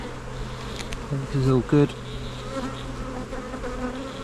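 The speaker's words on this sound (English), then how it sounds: "There are quite a lot of bees there, didn't need to." Honeybees buzz during a hive inspection, a close, steady insect hum with a louder burst of buzzing near the mic for a moment, while a person speaks softly.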